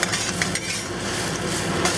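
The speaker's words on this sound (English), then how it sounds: "We're just gonna cook this until soft scramble." Eggs soft-scrambled in a pan for mu shu chicken, heard as a steady soft sizzle with repeated scraping and stirring of a utensil against the pan, close and continuous with no talk.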